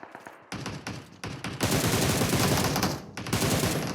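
Shotgun fire and other gunfire in PUBG Mobile, several loud close blasts in quick succession, with a burst of rapid shots, then a brief pause and another loud shot near the end.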